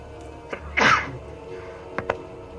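One forceful, close-up sneeze erupts in a noisy room, with a couple of small clicks and shuffles before and after.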